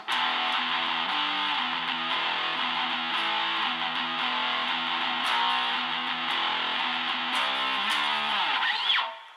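Distorted electric guitar chugs out quick triplet figures between heavy power chords in a steady driving rhythm. A final chord rings out and fades.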